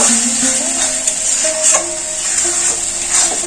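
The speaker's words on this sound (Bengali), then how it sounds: "এই মশলাটা খুব ভালো করে কষিয়ে নেব।" A spice masala with a splash of water is stirred and fried in a pan, with a steady close sizzle throughout and the scrape of a spoon against the metal.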